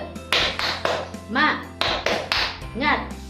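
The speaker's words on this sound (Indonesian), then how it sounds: "Dengan tepuk semangat." A primary school class does a rhythmic spirit clap, a steady run of crisp claps in a pattern with children's voices chanting along.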